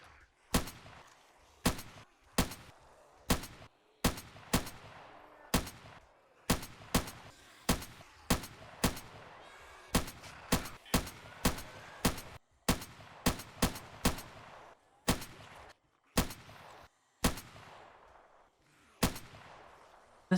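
Rifle fire in the zombie survival game 7 Days to Die, played with an Escape From Tarkov mod: dozens of sharp, loud single shots at an irregular pace, some quick pairs, each with a short decay and little else between.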